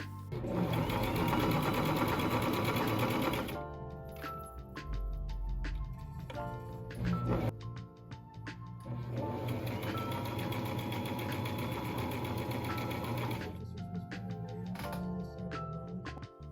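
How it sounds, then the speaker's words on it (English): A sewing machine back stitching across a seam on a small fabric scrunchie wristlet key fob runs in loud, close bursts of rapid rhythmic clatter, pausing briefly between runs before starting up again. "you just back stitch the whole thing all the way across"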